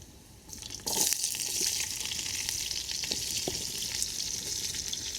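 Onions hit hot oil already holding garlic, cloves, peppercorns and cinnamon. A sharp sizzle bursts up after a quiet start and keeps going as a loud, steady frying hiss with a few stirring clicks, close by.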